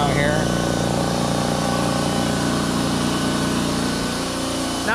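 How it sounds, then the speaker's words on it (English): A Dewalt 27-gallon oilless air compressor runs close by with a loud, steady motor drone and hum, unbroken for the whole stretch. "I definitely had noisier compressors before"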